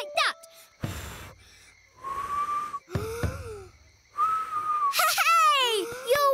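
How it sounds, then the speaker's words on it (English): A cartoon lion cub whistles in short, clear, wavering notes that rise and fall, starting breathy and growing stronger, mixed with excited gasps and a child-like voice. "You're whistling!"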